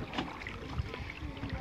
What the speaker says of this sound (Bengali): আমাদের নৌকাটা আগে যাচ্ছে